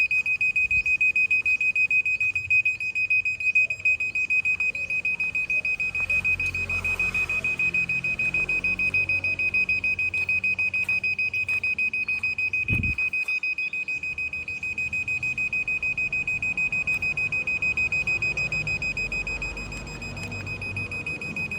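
A cheap Polesnow hidden camera detector sounds its alarm while testing infrared detection, giving a continuous piercing high-pitched beep that holds steady and loud throughout, with faint handling noise beneath and no talking.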